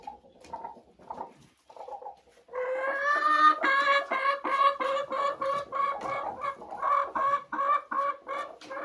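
Chickens cluck nearby while a rooster waits for a hen to lay. A few soft low clucks come first, then a loud, rhythmic run of cackling calls carries on steadily to the end, with no talk.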